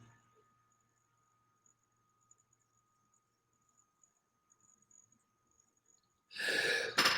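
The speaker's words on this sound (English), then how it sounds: "Feel the sneeze." After a long near-silent stretch with a faint lingering ring, one sudden loud sneeze bursts out close by at the end.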